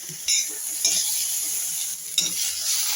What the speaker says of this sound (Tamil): கடுகு சீரகம் தாளித்து காய் வதக்கிட்டுருக்கேன்